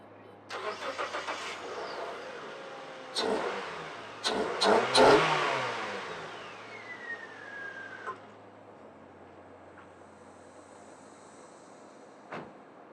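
A car with a modified air intake and missing parts starts up with a key turn, cranks and catches, then revs several times in loud bursts before settling to idle, with a brief blip near the end.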